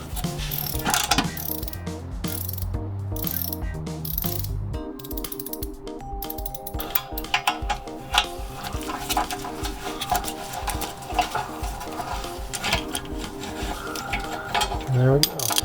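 A ratchet wrench backs long bolts out of a clutch assembly during teardown, its pawl clicking in a steady rapid rattle, loud and close, with a brief pause before cranking resumes.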